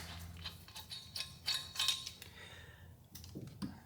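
Lug nuts coming off the front wheel of a 2006–2016 Chevrolet Impala during a brake job, heard as quiet, irregular metallic clicks and ticks in short bursts, close up with no talking.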